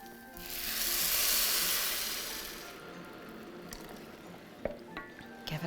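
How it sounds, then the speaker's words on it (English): Boiling water is poured into a pan of rice and peas, giving a swelling hiss and sizzle that peaks and fades over a few seconds, followed by light clinks and stirring noises close by. "Get the boiling water in."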